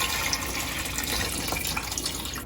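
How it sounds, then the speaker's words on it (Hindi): Water is poured off chicken drumsticks marinated in vinegar and salt, a steady, close splashing gush that runs without a break for a couple of seconds. "तो मैं इसका पानी निकाल दूंगी,"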